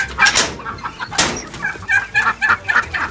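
Farm chickens at a Palakkad farmhouse cluck and squawk loudly and close up right after being let out of their coop, in a quick burst of overlapping calls.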